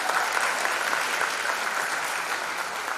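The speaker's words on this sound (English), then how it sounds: "Also to our Superintendent Hassan, give him a round of applause" Sustained applause from a sizable audience at a 2021 graduation ceremony, even and continuous clapping with no voices over it.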